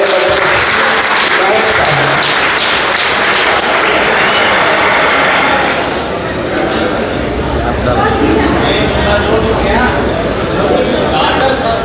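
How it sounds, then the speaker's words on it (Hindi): A large crowd at an Urdu poetry gathering claps loudly and continuously, a dense wash of applause with voices mixed in, easing slightly midway before carrying on. "आप इनका जोरदार तालियों से इस्तकबाल करें।"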